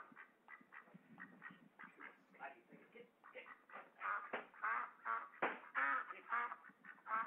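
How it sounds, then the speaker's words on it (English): A duck quacks repeatedly in thin, narrow-band sound as if over a phone line. The quacks start as faint scattered calls and grow louder and more frequent toward the end. "I said it sounds like a duck."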